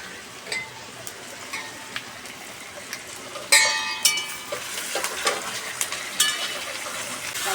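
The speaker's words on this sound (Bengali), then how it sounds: "মাংসটা দিয়ে দিই, সব একসাথে ভাজা হবে।" Chicken pieces hitting hot oil in a wok already holding frying potatoes and onions give a sudden loud sizzle, then a steady crackle with scattered scraping and stirring clicks. Nobody speaks.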